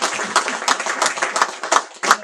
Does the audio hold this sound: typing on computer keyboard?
no